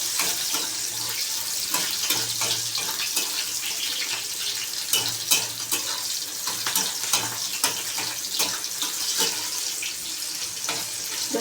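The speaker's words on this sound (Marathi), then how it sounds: "मी अगोदर हिरवी मिरची टाकणार आहे" Green chilies frying in a pan while making sabudana khichdi, a steady close crackling sizzle with occasional louder pops and stirring clicks, no talking.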